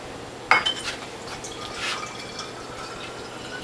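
Fresh juice from a Whole Health Foundation Premium juicer pours into a container, opening with a sharp clink against glass, then soft trickling and dripping that continues quietly with no talking.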